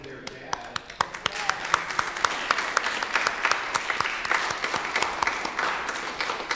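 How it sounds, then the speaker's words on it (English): Inside a Lutheran church during a Sunday service, the congregation claps for young women representing military families, with sharp individual claps standing out over a steady patter, and voices speaking over it. "We're gonna applaud anyway."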